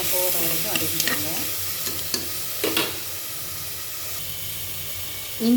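Ginger garlic paste fries in a pan with continuous loud sizzling, broken by a few sharp scraping stirs and spurts of hissing steam.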